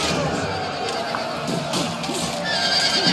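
In Medieval Kingdoms Total War 1212, Varangian cavalry charge Serbian horses; horses neigh and whinny repeatedly amid a clamorous battle din, with hooves and a voice talking faintly underneath.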